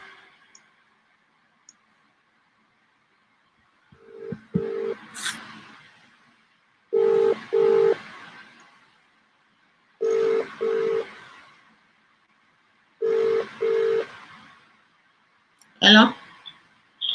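A phone call being placed, with a series of short paired electronic tones in a regular pattern separated by silence, ending in a brief burst of voice.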